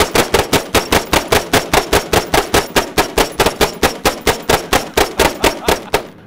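Gilboa DBR Snake double-barrel AR rifle firing a long, rapid string of loud gunshots in a steady, even rhythm, about four shots a second, close and sharp with no talking.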